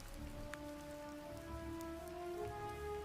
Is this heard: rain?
yes